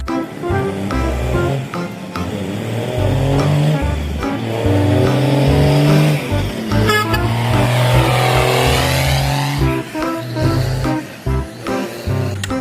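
A tanker truck engine runs loud and close, a steady throbbing rumble with rising and falling revs that continues through the whole stretch, with no voices over it.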